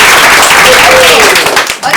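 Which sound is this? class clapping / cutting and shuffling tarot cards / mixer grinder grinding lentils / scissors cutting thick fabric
class clapping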